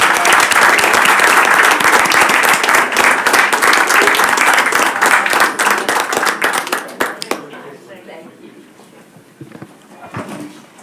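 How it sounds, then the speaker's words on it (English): A school board meeting room fills with loud, dense applause for students, many hands clapping close together for about seven seconds before it thins into scattered claps and quiet room noise. "Can we have another round of applause for the students?"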